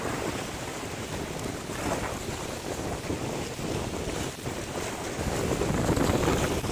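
Strong wind buffets the microphone at a beach where kitesurfers ride, with surf rolling underneath; a steady, loud roar with no talk that swells a little toward the end.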